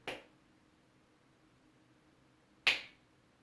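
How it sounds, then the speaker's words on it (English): Two sharp finger snaps ring out close and crisp in a quiet room, the first at the start and the second about two and a half seconds later, each decaying quickly. "snap my fingers"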